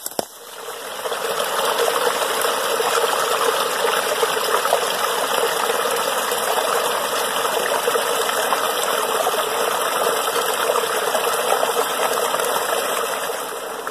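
Creek water rushes and gushes steadily on a wooded property line, a loud, continuous broadband flow with no break from start to finish.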